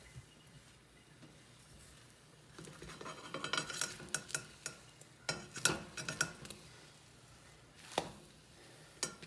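A turkey, brie and sun-dried tomato omelette cooking in a frying pan, with a soft sizzle underneath and a run of close, sharp clatters and taps from the pan and utensil as it gets flipped.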